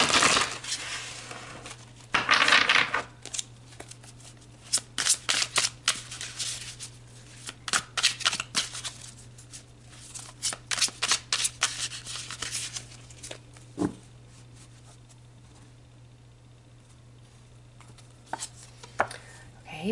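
Tarot cards shuffled by hand in a steady run of crisp riffles and slaps, close and fairly loud for the first half, then thinning to sparse soft taps, with no talking.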